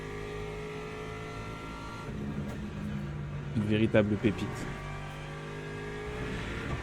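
A GT3 race car engine in a racing video game drones steadily in the background, with a brief revving swell midway. Someone speaks French over it.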